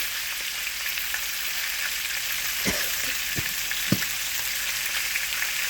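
Chicken fries in a pan of olive oil and butter with a steady, close hiss, and a few soft thumps are heard as the pieces are stirred or moved.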